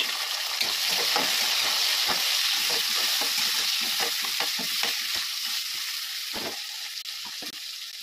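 Tomatoes and garlic frying in oil in a pan for gongura pachadi make a loud, continuous sizzle close by, broken by scraping stirs throughout.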